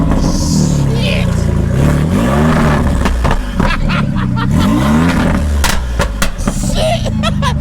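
Loud engine of a lifted truck on new Rough Country Vertex coilovers and BDS upper control arms, revving hard with sharp exhaust crackles and pops, the engine roar steady throughout while people talk over it.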